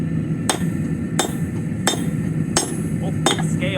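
A blacksmith hammering hot metal on the anvil horn: about six loud, ringing strikes land at a steady, unhurried pace over a low background hum.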